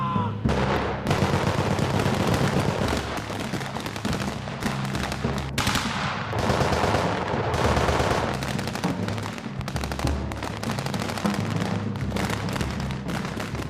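Pyrotechnic explosions and rapid gunfire on a war film set fill the air in a dense, continuous barrage of loud cracks and booms, with faint voices under the racket.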